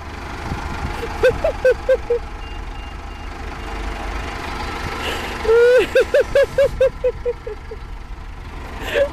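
A bus pulls up at a stop, its low engine rumble under a series of repeated high beeps in two bursts, with a short hiss of air brakes near the end.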